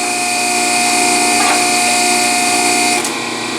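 A loud, steady cutting whine holds throughout as the end of a used tailpipe on a 1974 Ford F100 Ranger XLT truck is cut, easing slightly near the end.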